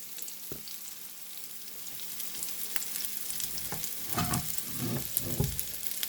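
Pork balls fry in oil in a pan on a tilted stovetop, with a steady crackling sizzle that swells into louder bursts of spitting toward the end, close and alone with no voices.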